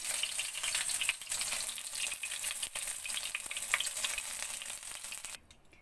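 Hot oil sizzles and spatters steadily as chicken pieces fry golden brown for adobo, a dense continuous crackle that runs close and loud before cutting off near the end.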